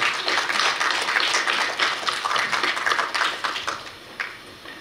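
Audience applause welcoming a student at a KU-KIST graduate school entrance ceremony at Korea University: dense, steady clapping from a crowd, fairly loud and sustained, easing slightly near the end.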